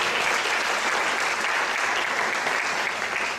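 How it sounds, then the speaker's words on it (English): An audience applauds rabbis in attendance, dense steady clapping from many hands that keeps an even level throughout, with no voices standing out. "if we could just do a quick round of applause for the rabbis who made it here today"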